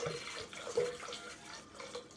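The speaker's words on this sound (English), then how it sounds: "And we're gonna add some water." Water poured into a blender for a meal-replacement smoothie, a steady splashing pour running close and alone for about two seconds.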